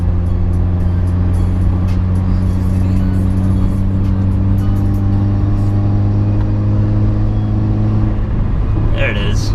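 Turbocharged 2017 Subaru Forester XT with an AEM cold air intake and a Boomba Racing blow-off valve, a loud steady engine drone from inside the car, the pitch shifting toward the end as it releases.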